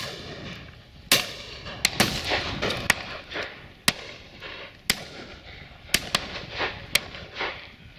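Shotgun shots ring out at a pheasant and partridge shoot, a series of about ten sharp cracks spaced irregularly over several seconds, some near and loud, others fainter, with rustling and faint outdoor background between them.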